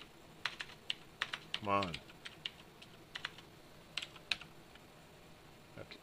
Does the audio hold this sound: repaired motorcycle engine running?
no